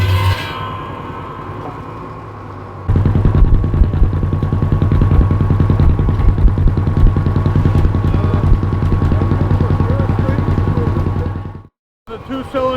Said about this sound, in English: The two-cylinder John Deere engine running a cut-off blade.